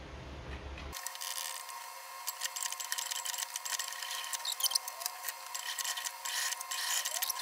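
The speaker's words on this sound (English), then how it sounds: "So now I'm going to stitch along here with a 1/4 inch seam allowance." A sewing machine stitching a quarter-inch seam in cork fabric for a shoulder bag, using a 2.5 mm stitch length, runs in a steady, close mechanical whir with fine rapid ticking after a short pause at the start.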